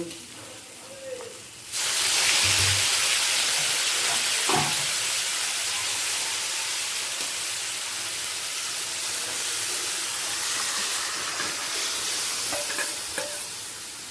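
Thin rui fish curry gravy is poured into a hot pan of spices, setting off a sudden loud, close sizzle that carries on as a steady, broad frying hiss.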